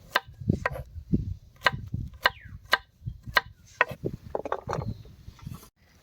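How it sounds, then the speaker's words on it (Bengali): A knife chops raw ginger on a board as spices are prepped for doi katla, a Bengali yogurt fish curry, giving a dozen or more close, sharp, irregular thuds and taps with no talking. "আমরা আদাটাকেও বেটে নেব তার জন্য আদাটাকে কেটে নিচ্ছি"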